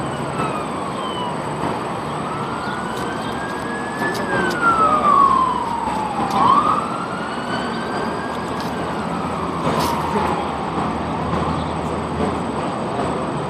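A camera drone lifts off from a floor and flies, giving a steady whining buzz with pitch rising and falling as it climbs and manoeuvres, loudest around the middle.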